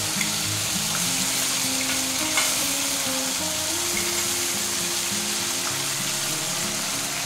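Ground spice pastes, including cumin paste, hit hot oil in a pan for a banana flower curry and set off a continuous, even sizzle with faint stirring underneath.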